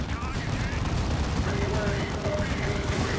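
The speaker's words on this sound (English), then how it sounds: "another Terminator dropping that dual-linked las cannon there on the Predator" Dual-linked lascannon fire on a Predator tank in the Dawn of War 2 video game, heard as dense, continuous battle noise with crackling shots and booms under a voice talking.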